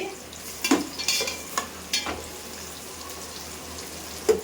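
Onions fry in a pan for a fish curry, a soft steady sizzle punctuated by several clattering scrapes of a spoon stirring, fairly quiet and without talk.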